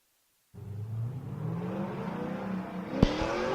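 A drift car engine revs hard and climbs in pitch during a grassroots drifting competition, with tire noise and a sharp knock partway through, loud and continuous.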